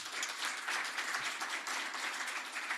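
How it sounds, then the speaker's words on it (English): An audience gives a round of applause for the Secretary General at a trade cooperation forum, a dense, continuous burst of many hands clapping at a moderate distance, with no speech over it. "I think a round of applause,"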